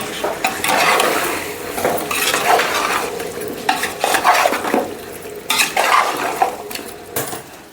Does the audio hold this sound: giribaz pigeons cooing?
no